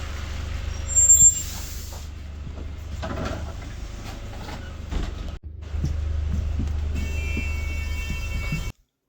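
Coach air brakes hiss in a burst near the start over a steady low diesel rumble, then the engine idles on with one brief drop midway, on a rainy away day at a Manchester United versus Brentford match.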